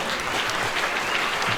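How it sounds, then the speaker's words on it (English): A short burst of dense, continuous applause from a dinner crowd at an annual awards banquet, even and sustained throughout, with faint crowd murmur beneath the clapping. "So let's big round of applause for all the spouses and the children."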